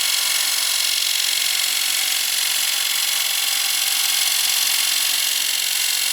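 A woodturning gouge cuts very dry, brittle wood spinning on a lathe, giving a continuous, even, hissing scrape that stays loud and unbroken with no talking.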